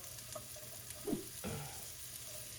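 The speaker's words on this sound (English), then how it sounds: "You just want to saute them till they're just a nice, I don't know, golden brown." Onions sauté in a pan for beef stroganoff, a soft, steady sizzle with a couple of brief stirring scrapes partway through.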